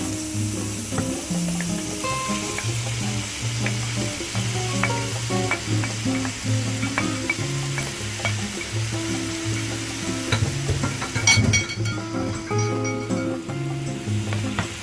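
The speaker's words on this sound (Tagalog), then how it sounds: "hahaluin lang natin to hanggang sa maluto yung ating giniling" Ground beef sautéing in a pan: continuous close sizzling, with a spatula clinking and scraping as the meat is stirred, growing busier near the end.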